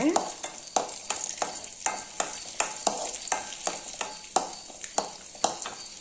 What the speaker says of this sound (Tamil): இந்த நெய்யில் இதில் நம்ம ஒரு பத்து முந்திரி பருப்பு உடச்சி வச்சுருக்கேன் அதை போட்டுக்கலாங்க நல்லா முந்திரி பருப்பு வறுத்துக்கலாங்க